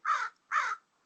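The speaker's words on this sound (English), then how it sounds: "the crow's talking." A crow caws twice in quick succession, two harsh, evenly spaced calls that are moderately loud and fairly close, with quiet afterward.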